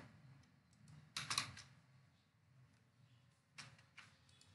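Computer keyboard keys pressed at a desk while working on a necklace joint design, a short burst of clustered clicks followed by a couple of isolated taps like the enter key, near and fairly quiet, no voice.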